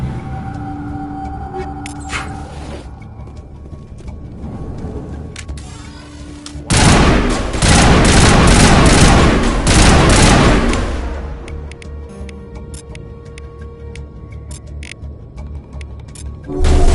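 Dense burst of gunfire from the Mass Effect video game, loud and continuous for several seconds in the middle, with quieter game ambience before and after.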